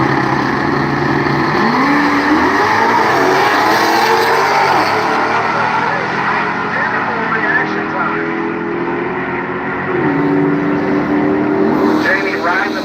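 Drag race cars, a Mopar against a Mustang, roar loudly and continuously down the strip at Bradenton Motorsports Park, with engine tones rising during the run. An announcer talks over the noise.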